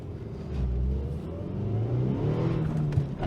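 A revving Eagle Talon engine spins its wheels on snow, with a steady mid-pitched drone that swells and falls close by.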